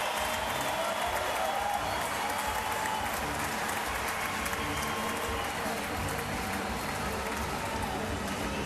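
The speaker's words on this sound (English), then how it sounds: "the fans celebrate with the team" Houston Astros baseball fans in a stadium applauding and cheering as their team clinches a third straight AL West title, a loud continuous roar of clapping and crowd noise throughout.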